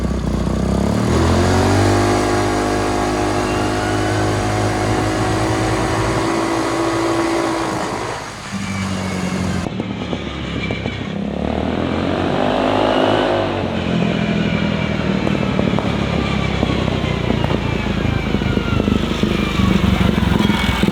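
A GY6-engined trike accelerates while riding, its buzzing engine rising steadily in pitch, dipping briefly as it shifts or eases off, then climbing again under constant wind noise, loud and close with no talking.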